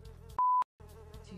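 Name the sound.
fly buzzing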